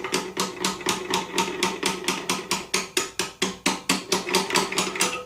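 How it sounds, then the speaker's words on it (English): Rapid, steady hammer blows on a metal socket on a Honda generator engine, roughly four strikes per second, each a sharp ringing clank, continuing without pause. "Then I can smack it with a hammer."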